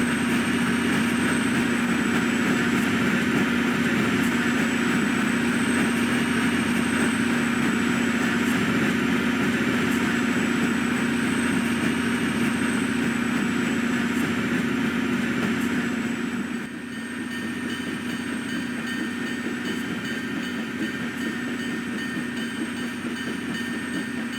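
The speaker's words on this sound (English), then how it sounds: "As the train slowly makes its way onto the chemical coast" A locomotive-hauled passenger train rolls slowly along the Chemical Coast rail line, giving a continuous steady rumble with a thin high whine above it. The sound stays close and even throughout, dipping slightly near the end.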